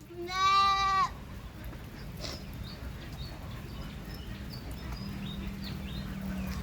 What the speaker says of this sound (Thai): 16 ตัวที่ยังเหลืออยู่เนี่ยนะครับ มันมารวมอยู่ตรงนี้แล้วนะครับ